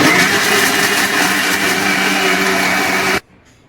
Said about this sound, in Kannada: ಈಗ ಇದನ್ನೀಗ ಮಿಕ್ಸಿಯಲ್ಲಿ ರುಬ್ತೇನೆ